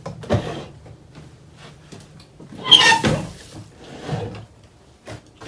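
Overfull storage drawers creak and scrape as they are pulled open and pushed closed, in several separate rough bursts with quiet gaps between, close by.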